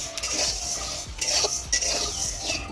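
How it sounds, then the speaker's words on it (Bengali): Rice is dry-roasted and stirred in a pan, metal utensil scraping and clinking against the pan in irregular strokes, close and fairly quiet, with no talking. "দেখো চাল ভাজছি"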